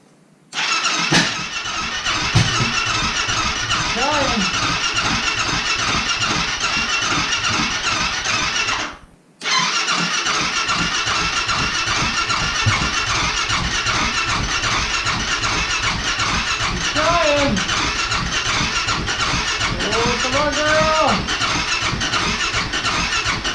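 A Honda TRX700XX ATV engine, freshly refilled after being drained of fluids, cranks repeatedly with a steady loud starter whir, briefly stopping near the middle before cranking again with rising squeals.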